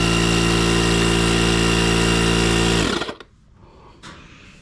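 A VEVOR 12V electric hydraulic car floor jack with built-in air compressor runs loudly and steadily with a constant motor drone, then cuts off abruptly near the end, leaving faint quiet handling noise.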